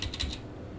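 Typing on a computer keyboard: a quick cluster of four crisp key clicks close by, followed by a quiet pause.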